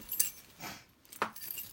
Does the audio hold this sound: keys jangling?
yes